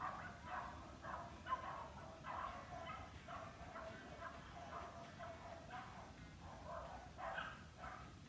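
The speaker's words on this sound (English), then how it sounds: "Every dog in the neighbourhood's just going off." Faint, distant dogs bark again and again across a neighbourhood, the repeated yaps sounding far off and steady throughout.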